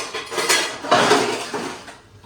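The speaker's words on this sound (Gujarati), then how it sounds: "અહીંયા વાસણ ઉઠી રહી છું અત્યારે" Dishes clink and clatter in quick bursts as pots and utensils are handled and scrubbed close by, with no talking.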